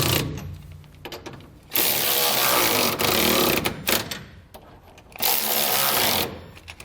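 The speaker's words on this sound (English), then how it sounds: "we can go back with a 19mm socket and tighten them all down." Bolts on TorkLift tie-downs for a 2021 GMC truck are tightened with a 19mm socket, in several bursts of rapid mechanical whirring and ratcheting separated by short pauses, close and moderately loud.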